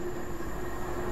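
A London Underground subway train in a train simulator video game rattles and clatters loudly and steadily with a constant mechanical hum, heard close up and without talk.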